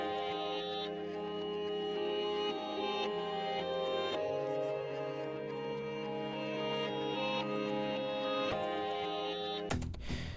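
A reversed audio sample plays back in FL Studio. Dense, swelling musical tones sweep backward and rise into note attacks, continuing steadily at moderate level for about ten seconds before an abrupt noisy cut at the end.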